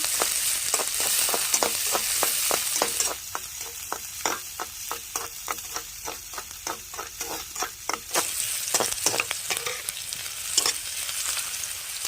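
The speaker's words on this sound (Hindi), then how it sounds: "सौंफ, कटी हुई प्याज और साथ में हरी मिर्चा, और इनको चला के कर लेते हैं फ्राई।" Fennel, chopped onion and green chilies stir-fry in a pan with a steady hiss, punctuated by rapid rhythmic scraping strokes of a spatula, loud and close throughout.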